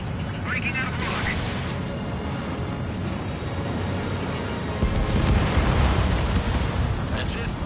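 An enemy bomber exploding in the air combat game Ace Combat, a deep rumbling blast swelling out of roaring jet engine noise, loud and sustained, with radio chatter voices talking over it.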